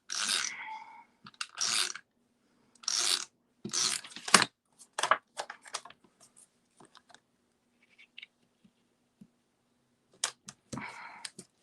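Paper for a handmade Christmas card is cut with scissors in short, crisp snips and crunches, several close bursts separated by quiet pauses, with faint clicks in between.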